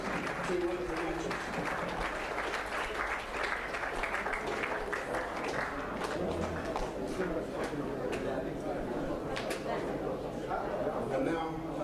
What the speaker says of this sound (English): please a big round of applause for both the finals, the ladies and the men